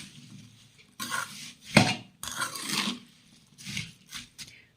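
A spoon stirs and mixes masala for a ginger, garlic and chilli pickle in a metal pan, giving intermittent scraping and clinking strokes at close range.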